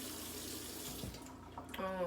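Water from a faucet runs into a cup, a steady splashing flow that shifts in pitch as the cup fills, ending with a brief rising ring near the end.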